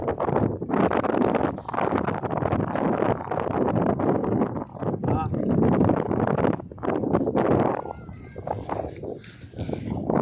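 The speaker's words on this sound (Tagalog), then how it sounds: "Lakas ng hangin." Strong wind at a beach in Pangasinan roars steadily into the microphone, loud and buffeting throughout, with faint voices nearly buried beneath it.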